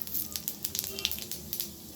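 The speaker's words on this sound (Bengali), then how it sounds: "ওই তেলের মধ্যে আমি দিয়ে দিলাম জিরে ফোড়ন," Cumin seeds dropped into hot oil left from frying fritters crackle and pop in quick irregular bursts over a soft steady sizzle, close and fairly quiet.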